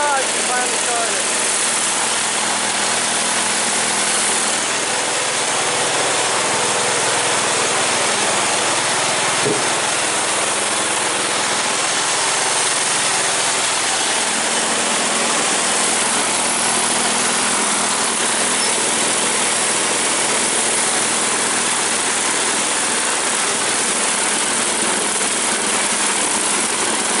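A Chevrolet Suburban engine idles after a hard cold start, producing a loud, steady, rough broadband drone that stays constant and close throughout, with no clear talk over it.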